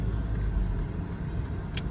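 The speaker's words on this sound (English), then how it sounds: "just trying to get around this bloody traffic somehow" Car interior while driving through midday traffic, a steady low engine and road rumble running continuously with no talk.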